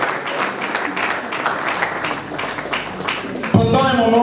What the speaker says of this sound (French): On les accueille avec des acclamations, mesdames et messieurs.